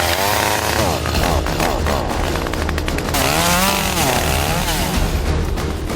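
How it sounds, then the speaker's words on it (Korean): A chainsaw cuts brush and scrub on a wildfire-fighting crew's work site. Its engine is close and loud, revving up and down in repeated surges as it bites through the wood, with no talk. "박준호 대원이 전기톱을 꺼내듭니다."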